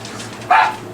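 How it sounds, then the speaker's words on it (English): A dog gives a single sharp bark close by, loud and brief against a quiet room background. "That's alright, that's my dog."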